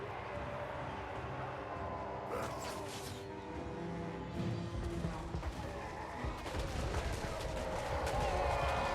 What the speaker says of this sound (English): Can take out the enemy archers with the Hellblaster volley guns.